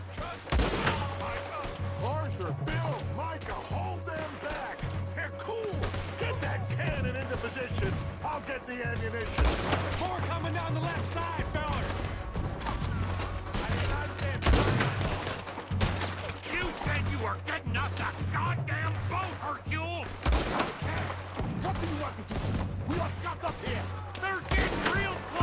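A gunfight in Red Dead Redemption 2, with scattered shots and clattering impacts over a steady low background score, while voices talk over the action.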